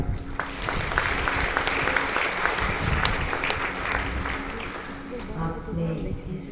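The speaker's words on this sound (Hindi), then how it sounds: "आपने किसके लिए ताली बजाई?" An audience at a spiritual class applauding, sustained dense clapping from many hands, loud and continuous throughout.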